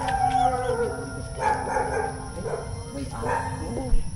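A dog barks and howls in several bursts, fairly close, with faint background noise between the calls.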